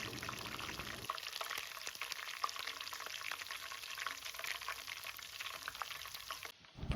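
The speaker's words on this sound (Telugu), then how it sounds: "వెల్లుల్లిపాయలు రెండు రెమ్మలు పచ్చి కరివేపాకు వేసుకొని బాగా దూరగా వేయించుకోవాలి" Garlic cloves and fresh curry leaves frying in hot oil for a tempering, a faint, even sizzle with small crackles and pops throughout, close by, with no talking.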